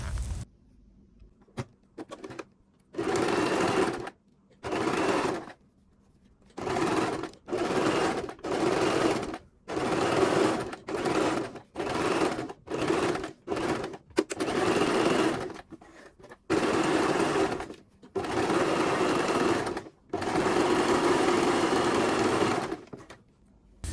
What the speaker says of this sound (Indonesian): lalu dijahit kelilingnya dari sini ke atas